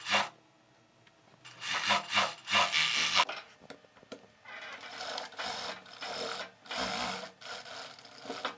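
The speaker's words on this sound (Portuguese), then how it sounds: "Vou passar uma costura na overlock e em seguida na máquina reta para fechar essa lateral" An overlock sewing machine stitches the side seam of a midi dress with shirred elastic detailing, running in several bursts of whirring noise separated by short pauses, heard close and with no talking.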